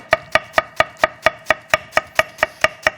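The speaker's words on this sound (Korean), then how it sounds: "자, 양배추를 먼저 최대한 얇게." Knife slicing cabbage as thinly as possible on a cutting board, a steady run of about thirteen crisp, even chops, close and fairly loud.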